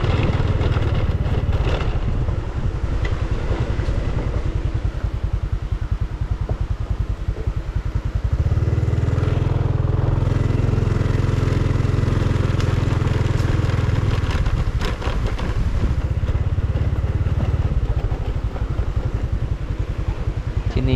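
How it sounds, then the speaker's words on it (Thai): A motorcycle rides slowly around a riverside campsite at Wang Kan Lueang Arboretum in Lopburi. Its steady engine drone holds close and continuous, deepening midway, with heavy wind buffeting the microphone throughout. "เดี๋ยวขี่รถมอเตอร์ไซค์ดูก่อน ดูสถานที่ก่อน"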